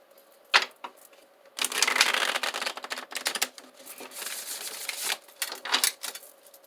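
A deck of tarot cards being shuffled at close range: a brief flick, then several bursts of riffling and rustling cards with short pauses between them.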